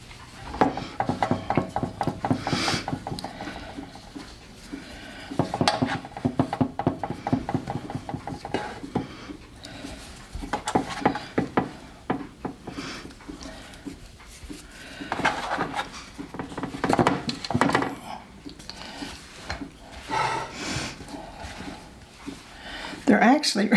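Homemade bread rolls, folded over, are set three to a layer into a baking pan, with soft dull thumps and light metallic clinks of the pan close by, while a person talks over the handling throughout.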